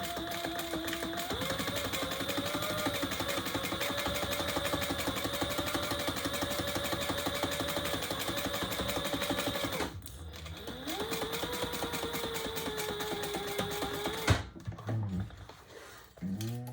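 Sewing machine stitching a leather tote bag, a fast steady mechanical whir with rhythmic needle clatter running for about ten seconds, pausing briefly, then resuming with a short backstitch run; no talk.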